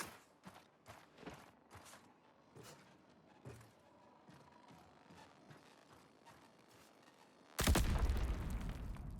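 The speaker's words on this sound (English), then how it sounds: "That was a claymore." Claymore explosion in the video game Marathon: a sudden loud blast and noisy roar near the end, following a stretch of faint clicks and footsteps.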